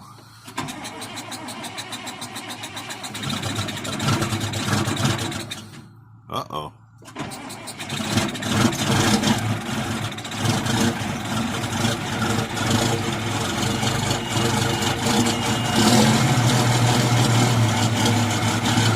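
A tractor's Case 504 diesel engine cold-starts, cranking, catching and settling into a steady, rumbling idle, with a brief pause early on and a short spoken exclamation.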